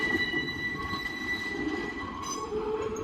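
Train backing slowly into the Southern California Railway Museum station, wheels squealing with thin high tones over a low rolling rumble, steady and fairly close.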